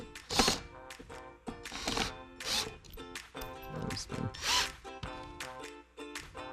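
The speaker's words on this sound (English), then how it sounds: "So we're going to drive the screws in, try to keep everything lined up." A power drill drives 2-inch screws into a wooden wine rack, giving several bursts of close, uneven whirring and grinding with brief pauses between them.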